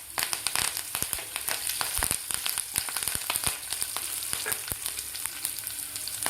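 Curry leaves crackle and spit in hot oil with garlic, a dense, loud frying sizzle full of sharp pops and stirring scrapes throughout.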